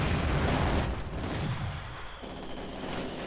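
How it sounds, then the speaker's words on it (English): Light machine gun fire in the World War II strategy game Company of Heroes 2: dense, continuous rattling bursts mixed with other battlefield gunfire, loud and steady, easing briefly before carrying on. "It looks like Fahu did indeed upgrade someone's gun to a light machine gun"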